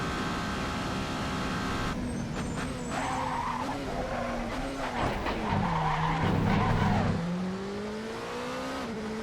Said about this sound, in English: as soon as I threw the car in, it just was going around, and so I figured rather than spin to the left, let's spin to the right